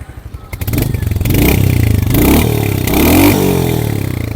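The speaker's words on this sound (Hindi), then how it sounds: "हंटर का एग्जॉस्ट नोट सुना देता हूँ।" A Royal Enfield Hunter 350 motorcycle engine revs up with a throaty, sporty exhaust note, rising and holding loud and close, with slight clatter from the engine.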